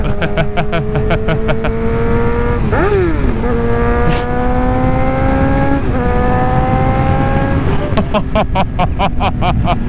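A Suzuki GSX-R 750 motorcycle engine screams up toward high revs. Sharp throttle blips at the start and end frame a sustained, loud, high-pitched wail with brief dips between pulls, heard up close.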